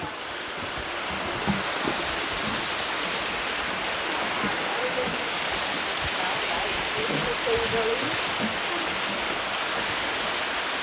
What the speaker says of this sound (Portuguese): Que belíssima queda d'água